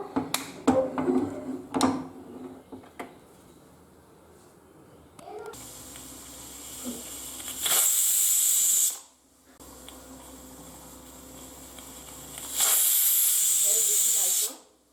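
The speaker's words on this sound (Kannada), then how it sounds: "ಇದು ಒಂದು ಒಂದು ಕೂಗು ಅಥವಾ ಎರಡು ಕೂಗು ಕೂಗಿಸ್ಕೊಳ್ಳೋಣ" A pressure cooker cooking bisi bele bath lets out two loud, sustained jets of hissing steam, each lasting a second or two, after a stretch of kitchen clatter and a voice at the start.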